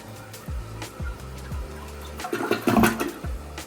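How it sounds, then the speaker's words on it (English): A colored hotel-room toilet flushing weakly, with a soft rushing swell of water building near the end after a few quieter clunks and low hums. "Weak flush, but it flushes."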